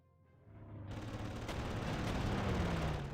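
Anti-aircraft guns firing at enemy air units in the Panzer Corps wargame: a sharp report rising out of quiet into a dense, continuous burst of fire and booms that stays loud to the end.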